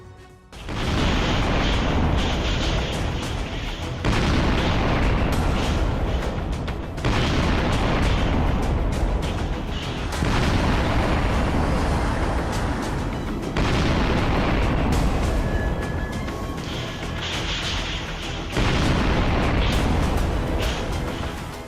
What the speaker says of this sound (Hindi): धमाके ऐसे कि रूह थरथरा जाए